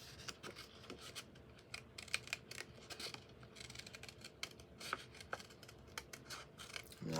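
Scissors snip through paper while a vintage Christmas gift card holder is cut out by hand, a close, quiet series of uneven crisp snips and rustles with no talking.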